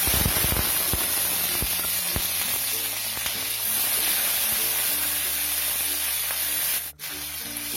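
A handful of soaked raw peanuts fries in hot oil, a loud continuous close sizzle and hiss with scattered crackling pops throughout.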